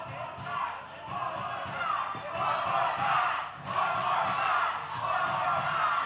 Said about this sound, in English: Crowd giving some direction